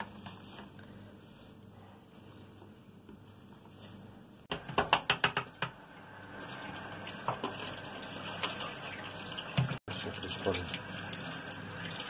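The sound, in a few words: water running while washing parsley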